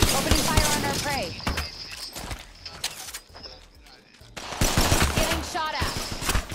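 Rapid automatic gunfire from an Apex Legends match crackles in dense bursts, briefly thins out, then returns loud and close, with a player talking over the shots.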